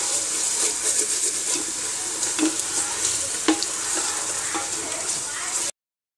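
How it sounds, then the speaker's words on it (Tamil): Ginger garlic paste sautés in a pan with a bright, continuous sizzle and occasional spatula scrapes, ending abruptly in silence near the end. "இஞ்சி பூண்டு பேஸ்ட் போட்டோடனே அடி பிடிக்கும், பார்த்து வதக்கிட்டே இருங்க"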